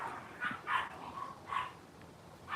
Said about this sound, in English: Those dogs just never stop.